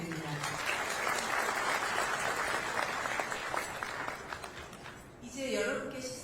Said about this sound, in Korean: 소중한 말씀을 나눠주신 세 분께 큰 박수 부탁드립니다